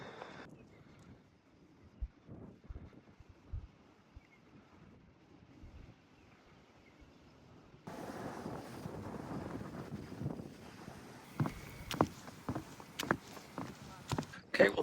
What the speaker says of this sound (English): It is very windy still.